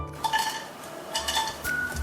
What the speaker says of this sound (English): Remove the inside from the anchovies and stir fry them in a pot.